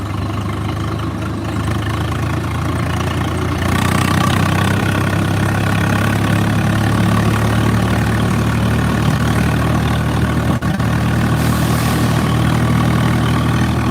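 A Swaraj tractor engine idles steadily and loudly nearby, a continuous low rumbling drone that holds the same pace throughout.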